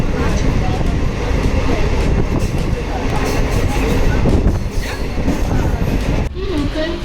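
A fast local train at Mumbai Central station rumbles and clatters continuously and loudly, with a faint murmur of voices mixed into the steady roar.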